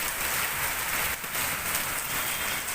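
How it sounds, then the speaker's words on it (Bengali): Heavy rain pours down in a dense, even hiss that fills the space without a break, close and moderately loud. "আওয়াজ শুনে বুঝতেই পারছো প্রচুর জোরে নেমেছে বৃষ্টি।"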